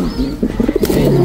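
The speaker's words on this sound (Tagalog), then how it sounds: "Ang liit na ice pigeon kasi yan eh." Newly hatched ice pigeon chicks give a quick run of soft, close peeping and cooing calls lasting about a second, heard alone without talk.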